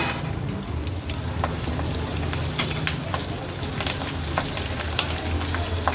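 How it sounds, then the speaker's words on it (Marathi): Crispy chili disco bhaji deep-frying in hot oil over a low to medium flame, giving a steady, close bubbling crackle with scattered sharp pops throughout. "अशाच पद्धतीने उरलेली भजी पण आपण तळून घेणार आहोत"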